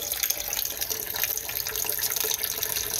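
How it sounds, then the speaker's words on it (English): A thin stream of tap water runs steadily into a kitchen sink while a boiled egg is rinsed and peeled, a continuous close, even splashing hiss with no talking. "I grab one and turn on a stream of water, just a little, to help."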